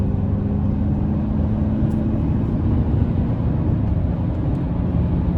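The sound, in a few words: 2024 Chevrolet Silverado turbo engine accelerating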